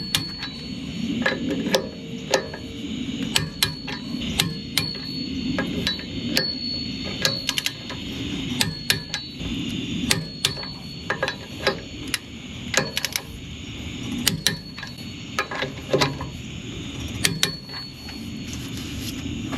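Sharp clicks of a torque wrench ring out repeatedly while truck wheel lug nuts are checked on a truck fitted with wheel spacers, recurring in irregular bursts over steady low background rumble.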